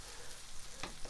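Bacon and mushrooms frying in a pan, a soft steady sizzle heard close and faint, with one short scraping stir near the end.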